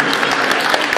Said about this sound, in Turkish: İçimizde Samsunlu misafirlerimiz varsa bir alkış alabilir miyim?